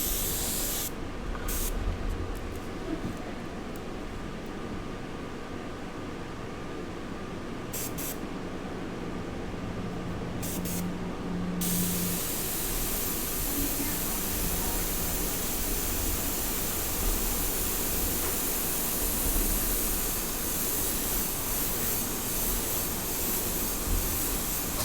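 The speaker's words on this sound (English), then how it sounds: "Airbrush might be a little bit too light." An airbrush sprays steadily over a charcoal drawing, a continuous close hiss that holds without pause throughout.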